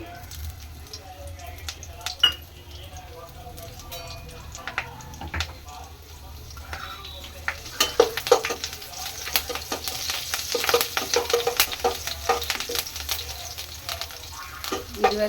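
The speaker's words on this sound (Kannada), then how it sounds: "ಒಂದು ಎರಡು ನಿಮಿಷ ಹೀಗೆ ಫ್ರೈ ಮಾಡ್ಕೋಬೇಕು" Curry leaves, crushed garlic and cumin frying in hot oil in a home kitchen, a steady low sizzle with scattered crackles and pops building louder toward the end, heard beneath intermittent talking.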